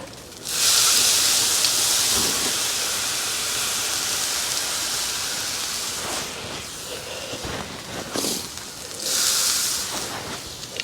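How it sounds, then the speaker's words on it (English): Vermouth hits a hot Dutch oven of beef over a fire pit, bursting into a loud, sustained sizzling hiss of steam that eases and then flares up again near the end. "Then we're going to deglaze the pan."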